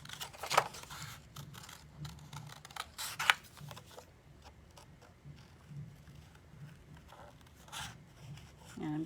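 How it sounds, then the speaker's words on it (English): Plain scissors cut around a printed paper sheet up close, producing quiet snipping and soft crisp paper rustling with a couple of sharper snips, faint and intermittent against a low room background. "I'm just using plain old scissors to kind of cut around the outside."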